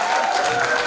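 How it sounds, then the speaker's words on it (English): A brief burst of continuous, loud audience clapping at a qawwali night, a dense even texture with faint voices underneath. "Keep the claps going."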